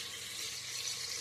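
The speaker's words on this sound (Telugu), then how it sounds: "1 గ్లాస్ ఆఫ్ రైస్కి 2 గ్లాస్ వాటర్ పోసుకొని" Water poured into rice for vegetable biryani, a steady close splash and trickle lasting briefly with no talk.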